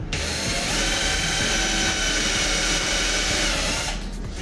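A power drill bores pilot holes into reclaimed wood for a cabinet, running as one loud, steady, high-pitched whine for about four seconds with no talking.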